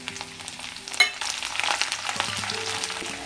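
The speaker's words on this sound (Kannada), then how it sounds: "ಈಗ ಸ್ವಲ್ಪ ಸಾಸಿವೆ ಹಾಕೋತಾ ಇದ್ದೀನಿ ಈಗ ಇದಕ್ಕೆ ಕಡಲೆಬೇಳೆ ಉದ್ದಿನಬೇಳೆ ಸೇರಿಸ್ಕೊತಾ ಇದ್ದೀನಿ" Mustard seeds, chana dal, urad dal, curry leaves and green chillies fry in hot oil for a tempering, giving a steady close sizzle with crackling pops and one sharp clank of a stirring utensil.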